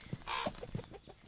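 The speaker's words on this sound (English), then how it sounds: "It's a possessed chicken!" A chicken clucks inside a house, several short close clucks in a quick uneven rhythm, fairly faint, with no talking.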